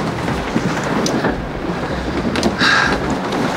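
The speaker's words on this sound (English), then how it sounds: "The wind was so bad." Strong wind gusting outdoors during bow hunting, a steady loud roar of buffeting against the microphone with rumbling surges throughout.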